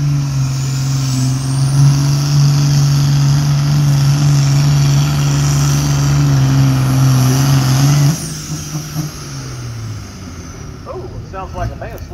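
A pulling tractor's engine roars at a steady high pitch during an Illinois tractor pull, loud and sustained, then drops off sharply as the revs fall away, with an announcer talking over it.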